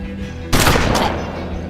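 A single loud gunshot in the Hard West video game on Nintendo Switch bursts out midway through a steady game background, then rings on with a decaying tail.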